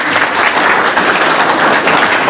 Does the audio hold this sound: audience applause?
yes